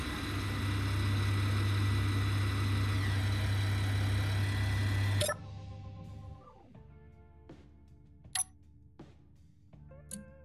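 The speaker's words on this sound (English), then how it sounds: "it is all powered by these three hydrogen engines" Three hydrogen engines power a small hauler drone in Space Engineers, giving a loud steady low idling drone that cuts off abruptly midway, leaving quieter mechanical clicks and a faint whirring hum.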